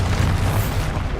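A Confringo fire spell blasts in Hogwarts Legacy, a loud booming explosion with a dense low rumble that holds strong for about a second before easing slightly.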